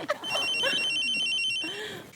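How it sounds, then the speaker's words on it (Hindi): A telephone rings with a steady electronic trill, loud and close, while faint talk is heard underneath. "ओहो, लगता है कोई खास फोन आ गया।"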